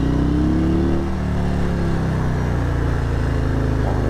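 A Harley-Davidson motorcycle engine revs close by on a Los Angeles ride, a loud, throbbing rumble that dips in pitch and then holds a steady, heavy drone.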